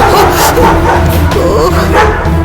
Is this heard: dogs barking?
yes